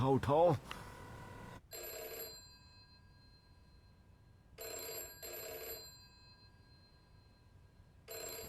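A telephone rings in a movie scene, repeated electronic bell-like trills in evenly spaced pairs with silent gaps, preceded by a brief voice.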